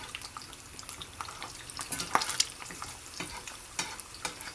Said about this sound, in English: This is a really well seasoned cast iron skillet. You see how this egg is sliding across?